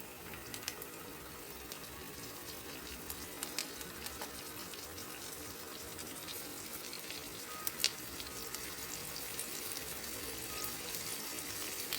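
Fish frying Kerala style in hot oil with garlic and curry leaves, a steady dense sizzle running throughout with small pops and crackles, close and fairly quiet, no talking.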